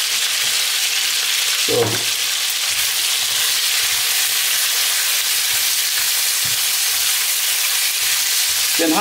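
Minced meat and onions frying hard in a pan, a loud, dense, steady sizzle with a few brief clatters of stirring.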